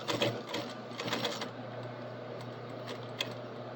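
A sewing machine backstitching belt loops onto a belt, heard as a rapid, rattling stitch run in a couple of bursts that then slows to a few faint ticks, fairly quiet.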